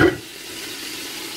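Chopped onion and garlic dropped into a hot pot of beef, a brief clatter followed by a steady soft sizzle on full heat.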